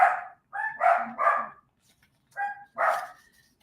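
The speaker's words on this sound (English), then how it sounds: "I'm tired of these dogs barking all day long." Several dogs bark in short separate bursts, four quick yaps close together then a pause and two more, fairly near and clear with no talk over them.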